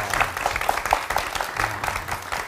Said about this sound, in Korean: 여러분 다시 한번 우리 아낌없는 큰 박수 부탁드리겠습니다.